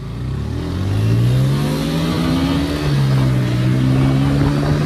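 A KTM motorcycle engine pulls hard off the line at a race start, loud and close, its rising pitch climbing steadily and holding a strong, continuous rev for several seconds.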